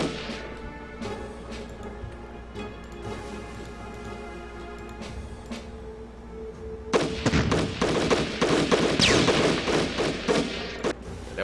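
Gunfire from the wargame Decisive Campaigns: Barbarossa: a steady crackle of distant shots and bursts that swells into a louder, denser volley of rapid impacts partway through, with no voices.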